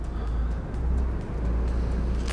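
A used, badly worn Bentley accelerates on the road, giving off a steady, fairly loud low engine rumble with road noise throughout.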